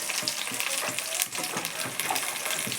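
Ivy gourd fry with spices is stirred in a hot pan, giving a continuous sizzle with scraping and clinking of the spoon against the pan.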